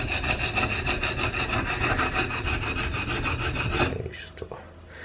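A kitchen knife blade is ground on a diamond whetstone to remove chips, producing steady, rhythmic rasping strokes, close and even, that stop abruptly near the end, leaving a quiet tap or two.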